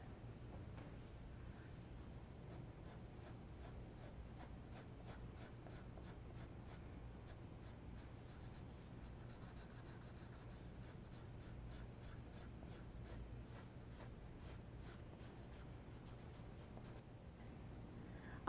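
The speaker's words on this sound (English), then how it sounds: "I am using my ebony pencil because my 8B pencil did not give me a dark enough dark." An ebony pencil shades the dark areas of a horse head and neck portrait on paper, giving a faint, continuous, close scratching with quick rhythmic strokes and no voices.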